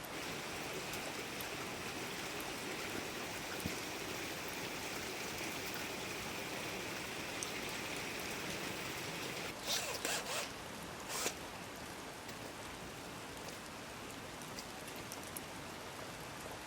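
Steady, dense hiss of heavy rain pouring down on a rainwater barrel system, continuous and loud throughout, with a couple of brief rustling bursts near the end.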